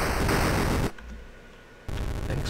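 Harsh, noisy gunfire bursts from the 1982 Atari 2600 game Dark Cavern, a loud static-like blast, a short gap of near quiet, then another blast.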